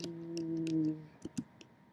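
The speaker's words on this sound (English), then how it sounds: "My damn broken keyboard is tricky to type." Keys clicking on a broken computer keyboard, a few sharp, close taps in an irregular rhythm over a soft steady hum.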